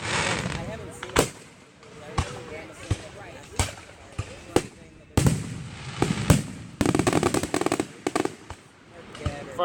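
Fireworks at a local Fourth of July show: repeated sharp bangs and crackling bursts at irregular intervals, some in quick clusters, fairly close, with people talking between them.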